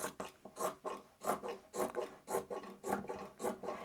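Scissors or a rotary cutter trimming the fabric edges of a quilted table runner top, giving a steady series of soft rasping cuts about every half second, fairly close and moderately quiet with no talking.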